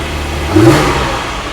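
A Porsche Cayman GT4 engine running near idle gives a brief rising rev partway through, then settles back to a steady mid-pitched hum, close and loud.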